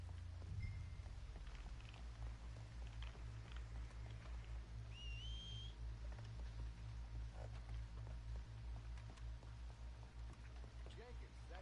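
A short whistled tune in Red Dead Redemption 2, a faint rising then level whistle near the middle, heard outdoors over steady low rumble, rain-like noise and game ambience.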